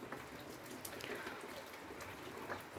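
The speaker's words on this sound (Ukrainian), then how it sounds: "Але дощик дуже-дуже у нас сьогодні інтенсивний." Heavy rain falling steadily outdoors near a chicken coop in summer, a dense continuous hiss of drops on surfaces with scattered sharper patters and a faint bird call in the background.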